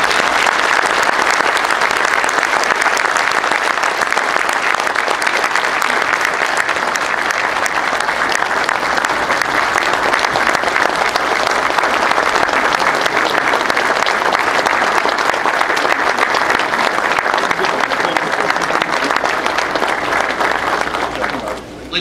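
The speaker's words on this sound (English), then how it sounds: "How about a round of applause for all of our leaders that came out today?" Sustained audience applause at a community event, a dense, steady wash of clapping from a crowd that runs loud and unbroken for about twenty seconds before cutting off.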